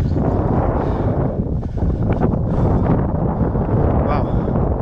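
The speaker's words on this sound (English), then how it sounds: "Stiff northerly breeze, which is quite fresh." A stiff, fresh northerly wind buffets the microphone on a rocky hilltop trig point in the Preseli Hills, a loud, continuous roar with gusty swells throughout.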